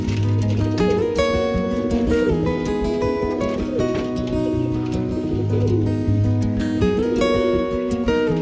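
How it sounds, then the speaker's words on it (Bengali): Pigeons coo in layered, repeating throaty calls over a continuous loud tonal backing, with some chirps mixed in throughout. "পায়রা।"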